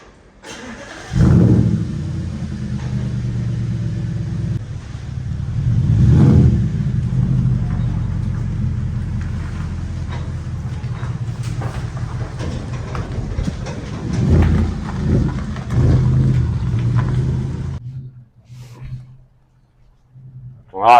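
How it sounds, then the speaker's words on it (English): An Audi S5 with a 4.2 V8 and no exhaust fitted drives down a bumpy road, a loud raw engine roar with a few revving swells before it drops to a quieter idle near the end. "first driving the S5, no exhaust"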